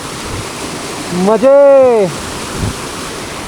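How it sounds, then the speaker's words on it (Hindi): A mountain waterfall on the Rohtang to Chandratal route pours with a steady broadband rush that runs through the whole clip, while a voice briefly calls out loudly in the middle. "झरना कितना सुंदर बह रहा है, और ये आ रहा है ऊपर से।"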